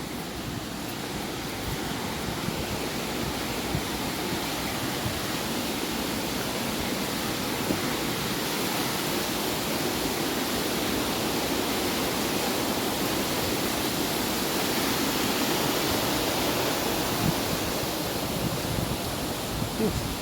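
Steady, loud rushing of a river flowing downstream along the Dales Way walking route, a continuous broadband wash of water that holds evenly for the whole stretch with no pauses.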